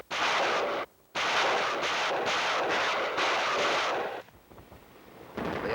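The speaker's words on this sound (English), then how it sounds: "the rocket launchers move in and lay down a barrage" A rocket launcher barrage in a Korean War winter attack roars as a dense, loud rushing blast that cuts off abruptly, resumes in a long sustained burst, then fades and returns, heard at a distance on an old recording.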